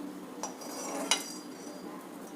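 Two light metallic clinks of a spoon against a mixer jar as roasted spices are transferred, spaced apart over a quiet background hiss, close by.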